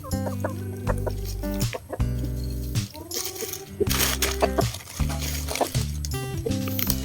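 Chickens cluck and a rooster-like call rises repeatedly, close by, with scattered farmyard noise and a voice speaking faintly underneath.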